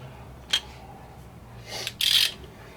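A wrench snugs a 16 mm bolt on the lower control arm of a 1999–2006 BMW X5 E53, with a single sharp click followed by short bursts of rapid ratcheting, close and crisp.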